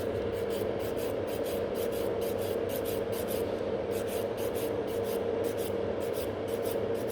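Nail file rubbing in steady repeated strokes over a fingernail with soft, soaked-off gel, a continuous close scratchy rasp with a regular back-and-forth rhythm and no talking.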